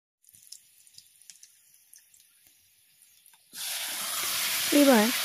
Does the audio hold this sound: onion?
yes